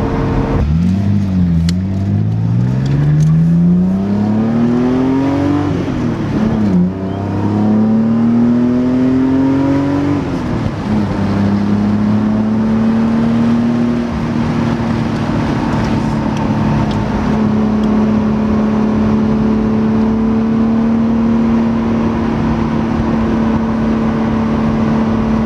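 An 80s Toyota Supra engine pulls hard through the gears, its note climbing steeply, dipping at each shift, then settling into a sustained loud drone while cruising, with no voices over it.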